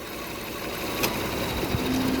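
A Toyota Kluger V6 with a misfire idles steadily with cylinder 6 disconnected, a continuous close engine drone with a faint click and a low tone rising near the end.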